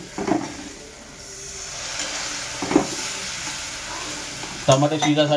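Pav bhaji sizzling in a pan with tomatoes as a spoon stirs it, a steady loud fry broken by scraping strokes, close up and with no voices.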